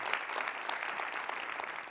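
A conference audience at the Grand Bain 2025 plenary applauds host Charlie, producing a continuous, even patter of many hands that stays moderately quiet and slightly distant from start to finish.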